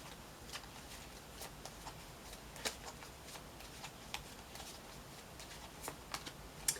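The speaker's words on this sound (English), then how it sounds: "let's pull a clarifier card on top of this Strength card" Tarot cards being shuffled and drawn from the deck, a run of soft papery riffles and flicks with a few sharper snaps, close and fairly quiet with no talking.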